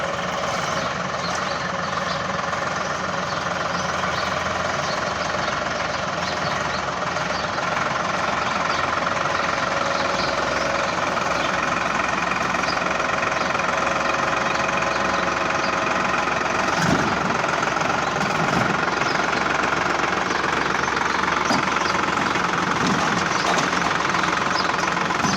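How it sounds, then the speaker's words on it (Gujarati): A Sonalika tractor's diesel engine running steadily as it is unloaded from an Eicher truck, a loud, constant chugging idle with a few clunks partway through. "આઈસરમાંથી ટ્રેક્ટર ઉતારી રહ્યા છે"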